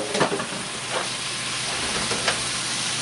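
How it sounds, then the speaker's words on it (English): Bitter gourd and pork belly sautéing in a hot pan, a steady close sizzle with a few stirring scrapes rising briefly above the frying hiss, no voices. "We're going to saute this bitter gourd for a while."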